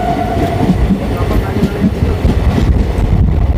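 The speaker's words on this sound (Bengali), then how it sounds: "আমাদের ট্রেন ক্রস করছে শ্যামনগর স্টেশন।" A train rolls through Shyamnagar station with a loud, close rumble and rhythmic clatter of wheels on rails, wind buffeting the microphone, a faint tone sounding early on.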